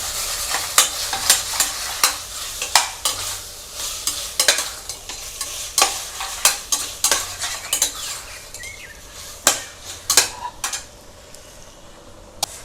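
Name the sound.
stirring tomato in chicken curry pan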